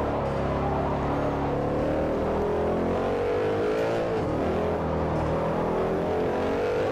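Gumpert Apollo race car engine in Forza Motorsport 4, a continuous loud high-revving drone with steady rising and falling pitch as the car accelerates and shifts through corners, close and alone without talk.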